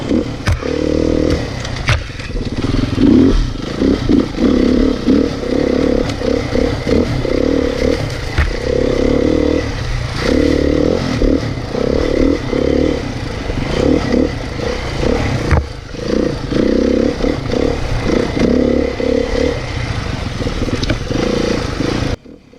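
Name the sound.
2018 Beta two-stroke dirt bike riding in the bush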